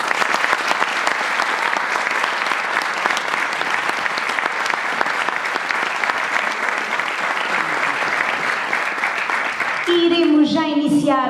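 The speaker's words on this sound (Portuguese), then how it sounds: "Um aplauso para eles." An audience at the second Madeira children's and youth song festival applauds loudly and steadily for several seconds, then a voice begins speaking near the end as the clapping continues.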